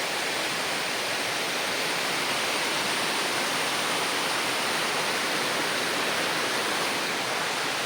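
A waterfall pours in an unbroken, even roar of rushing water, loud and close, a wide hiss that neither rises nor falls, with no voices over it.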